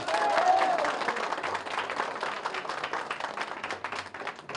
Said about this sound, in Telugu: చప్పట్లు కొట్టి గట్టిగా చెప్పండి ఒకసారి